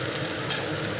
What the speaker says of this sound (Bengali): তারপরে দেব পেঁয়াজ। তেলটা প্রচণ্ড গরম।